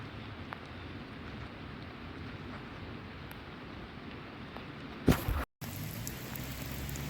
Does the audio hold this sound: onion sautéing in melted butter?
no